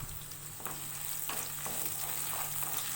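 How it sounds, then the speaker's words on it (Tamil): About 150 grams of whole peeled shallots sauté in oil, making a dense, continuous hiss and crackle with occasional soft stirring strokes. "இப்போ நான் இதில் வந்து ஒரு 150 கிராம் வந்து சின்ன வெங்காயம் சேர்த்துருக்கேன்"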